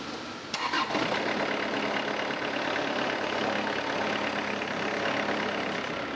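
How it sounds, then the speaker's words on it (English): Harper ATM72LC turf machine engine running steadily at idle with the parking brake on, a constant droning hum close by after a brief start-up click, with no talk. "with the parking brake on, this machine will start"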